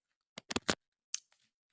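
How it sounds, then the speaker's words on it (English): Scissors snip through crochet yarn during a sweater project, three quick close snips followed by a pause and a fainter single cut with a small trailing click, all in an otherwise quiet room. "Pick your scissors,"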